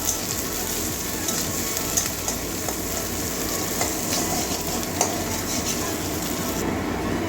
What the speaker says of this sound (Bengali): পেঁয়াজটা কাঁচা মতো যাওয়া পর্যন্ত ভাজবো